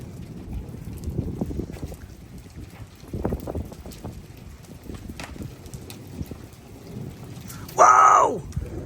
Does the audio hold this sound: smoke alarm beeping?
no